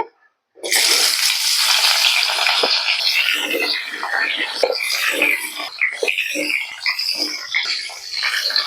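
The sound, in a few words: drumsticks (sajne data) frying in oil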